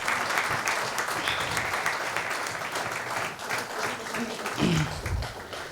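An audience at a motivational talk claps in a steady, enthusiastic round of applause that carries on for several seconds with a faint voice briefly rising near the end.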